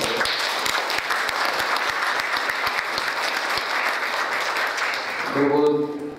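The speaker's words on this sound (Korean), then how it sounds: "그런 의미에서 박수 한번 쳐주십시오." Sustained audience applause fills a room at a bank's shareholders' meeting, a dense clapping roar that holds steady and then fades as a voice begins speaking near the end.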